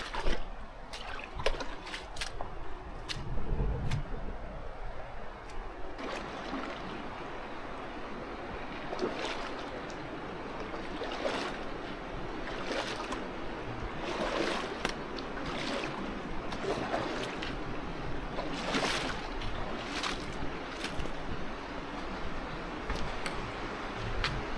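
Creek water flows and trickles through a slot canyon in Muddy Creek, partly dammed with rocks. It is a steady, close, broadband wash with small splashy bursts, heard alone without talk.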